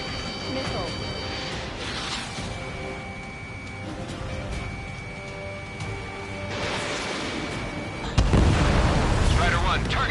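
Missile launches and explosions in a combat video game, repeated whooshing bursts and booms, with a sharp loud blast near the end, under a voice calling out radio chatter.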